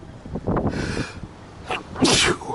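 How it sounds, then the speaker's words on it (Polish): A loud sneeze bursts out after a sharp intake of breath, close up, followed by a brief breathy exhale. "Przepraszam, będę kichał."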